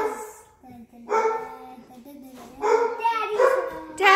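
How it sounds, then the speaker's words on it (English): A dog barks a few times nearby, mixed in with a voice and other talking in a quiet room. "Doggy's barking."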